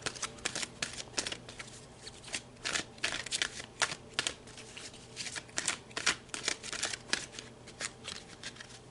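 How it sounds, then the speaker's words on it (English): Oracle cards being shuffled and pulled from a deck in a quiet room, a steady run of soft riffling flicks and slaps of card stock close by, with no talking. "So we're going to pull a couple more cards here."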